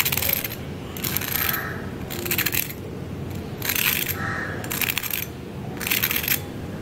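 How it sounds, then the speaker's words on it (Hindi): Crispy fried chicken bread rolls crunch in several bursts of crackling, each lasting about half a second, separated by short pauses over a low background hiss. "तो देखिए कितने क्रिस्पी बन के तैयार हुए हैं ये आपको आवाज़ से ही अंदाज़ा हो गया होगा"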